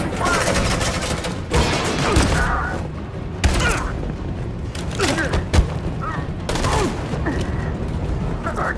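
Gunfire during an armed assault in Detroit Become Human, repeated loud bursts and booming shots scattered irregularly across the clip, mixed with shouted voices and clattering action.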